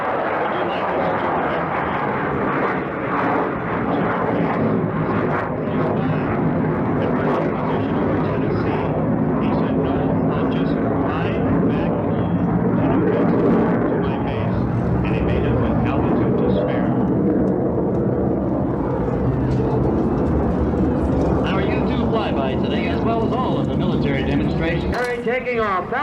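Lockheed U-2 spy plane flying overhead at the Reno Air Races, a loud, steady jet roar filling the air throughout, with a crowd and announcer talking beneath it.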